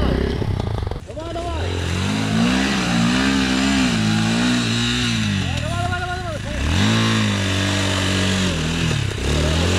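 A quad bike ATV on an off-road enduro ride, its engine droning loud and close, rising and falling through repeated revs, with voices shouting in the background.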